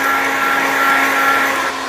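A heat gun blows steadily close by while vinyl wrap is shrunk onto a crash helmet, giving a loud, constant whirring hiss that drops slightly at the end.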